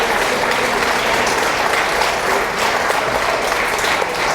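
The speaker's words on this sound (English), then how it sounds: "Students, please stand up and applaud your moms and dads, your grandmas, your grandpas, and tell them thanks." Middle school students at a continuation ceremony stand and applaud their families, a loud, dense, steady wash of clapping from a large crowd filling the whole stretch without pause.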